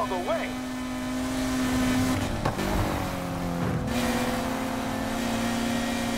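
A race car in the street-racing video game Need for Speed Heat revs and accelerates with a rising engine whine and gear shifts. Someone talks excitedly over the continuous engine noise.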